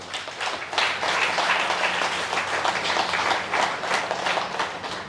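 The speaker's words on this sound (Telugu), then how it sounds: "అలాంటి మాస్టర్లకు గట్టిగా క్లాప్స్ చేయాలి." An audience applauds in a dense, continuous burst of clapping that stays loud and even for the whole stretch, with no voices on top.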